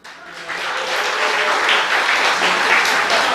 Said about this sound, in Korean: 그냥 박수만 하시.